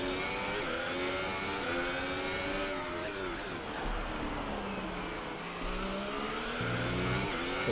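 A Formula 1 car in the racing video game F1 2018 on the USA circuit, its engine droning steadily with pitch rising and falling through a set of turns, loud and continuous.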